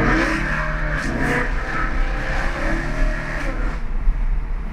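A BMW M3 exhaust rings out in a loud, close rev, a droning engine note that swells and holds with slight rises and dips, with no talk over it.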